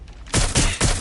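Three sharp gunshot bursts from Watch Dogs Legion ring out in quick succession, evenly spaced and loud, each a broadband crack with a decaying tail, with no voices over them.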